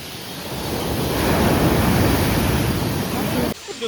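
Sea waves rolling onto a beach with wind buffeting the microphone, a continuous loud wash of surf that swells midway and cuts off abruptly near the end.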